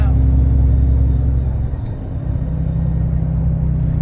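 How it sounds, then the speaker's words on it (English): Truck driving along the road, its engine rumbling loud and steady close by with a low drone throughout, and a voice talking over it. "I'm right here driving a truck, you know."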